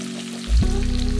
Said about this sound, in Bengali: এরপর এই তেলে আমরা ছেড়ে দেব ক্যাপসিকাম ও পেঁয়াজ কুচি।